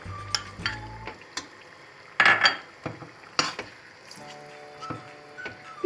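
Onions with tomato paste and pepper paste being sautéed in a pan on the stove, with scattered scraping and clinking of a utensil against the pan over a faint, low sizzle.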